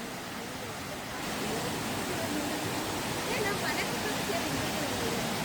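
Irupu waterfall, also called Lakshmana Tirtha, in Kodagu, a dense steady roar of falling water that swells slightly after the first second and stays constant and enveloping throughout.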